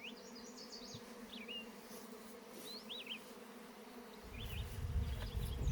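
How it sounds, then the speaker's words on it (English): Honey bees buzz around hive boxes in a steady, faint drone, with birds chirping intermittently and a low rumble of handling noise rising near the end. "Those are called drift bees."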